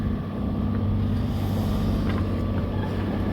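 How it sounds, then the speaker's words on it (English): A sailing yacht under engine power in calm conditions on the Helwick Pass off the Gower, carrying a steady low motor drone with a faint wash of water and wind rushing across the microphone. "There's no wind again, so we're motoring, which is really disappointing."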